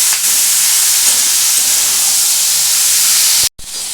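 Parboiled ingredients for malai paneer fry in a pan with a loud, unbroken hiss close by, cutting off abruptly just before the end.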